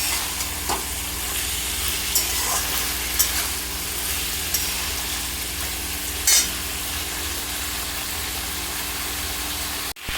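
Bottle gourd greens and already fried potatoes sizzle in a pan, a continuous close hiss with occasional light stirring taps and one sharp knock at the very end.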